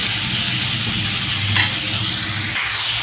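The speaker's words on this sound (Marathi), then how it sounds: "कांदे मस्त भाजत आहे आपले" Sliced onions with whole cardamom sizzle and fry steadily in a hot kadai, a constant loud crackle with occasional scrapes of a spoon stirring them.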